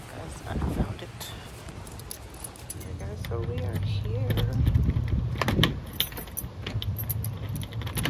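A bunch of keys jangles and clinks repeatedly at close range while someone heads off to find a semi-luxury apartment, with voices and movement in the background.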